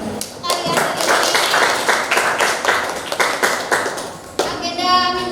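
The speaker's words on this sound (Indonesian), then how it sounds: "Tepuk tangan untuk kalian hari ini." Students in a chemistry classroom clap for themselves after a lab session, a brisk run of close, sharp handclaps from a small group with children's voices mixed in, ending with a brief burst of chatter.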